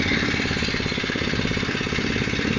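Phatmoto Rover motorized bike's small engine running steadily right after a pull start, a rapid, even putter held close and loud for the whole stretch with no talk over it.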